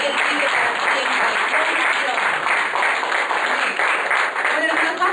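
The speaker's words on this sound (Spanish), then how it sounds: "Vamos a dar un fuerte aplauso al Señor por su palabra" A congregation at a Sunday church service claps loudly and steadily in a dense, continuous burst of applause lasting several seconds, with voices mixed in beneath it.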